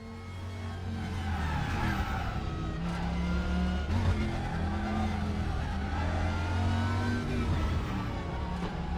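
Several race cars from the RaceRoom Racing Experience game, including a DTM car, roar steadily with layered engine notes and tyre noise, loud and continuous with no talk.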